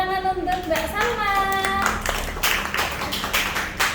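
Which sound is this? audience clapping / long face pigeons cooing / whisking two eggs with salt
audience clapping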